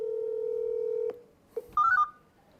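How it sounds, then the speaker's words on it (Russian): Telephone call placed on speakerphone: a steady dial tone, a brief click, then a quick burst of several bright dialing beeps, heard clearly with no talking. "звоним, я сейчас включу громкую связь"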